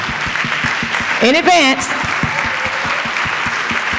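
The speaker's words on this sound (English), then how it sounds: "So now, let's give a round of applause" Applause from the audience at a school district advisory board meeting, honoring students, a steady wash of clapping with a voice speaking over it and a brief tonal burst partway through.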